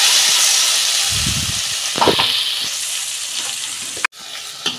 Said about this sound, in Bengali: এই টমেটো পেস্টটা দিয়ে আমি একটু ভালো করে কষাবো।